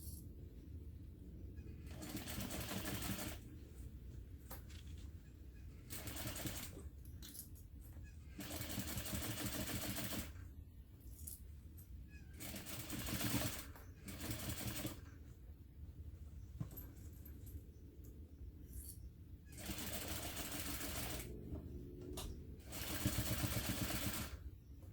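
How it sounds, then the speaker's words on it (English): A squeaky home sewing machine stitching thick fabric in repeated bursts, running and pausing, with a steady close mechanical whir and rhythmic clatter. "my sewing machine is squeaky"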